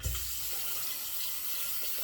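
Tap water runs steadily over an alum block under a faucet, a continuous close hiss of flowing water heard on its own with no talking.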